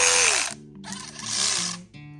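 A Dewalt 3/8-inch drive cordless ratchet runs in short bursts, a loud close-up motor whir that pitches down as each burst ends, then runs again briefly in the other direction.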